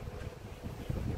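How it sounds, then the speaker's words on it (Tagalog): Low, blustery wind buffets the microphone in rumbling gusts for a brief moment, with no voices. "Mahangin po ngayong umaga."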